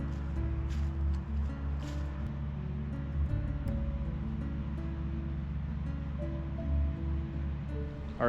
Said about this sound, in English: Just a little bubbling kind of rapids and stuff.